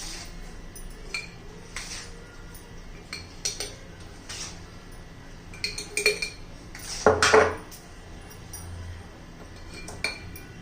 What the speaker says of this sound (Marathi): आपण आता बरणीमध्ये भरून घेऊया.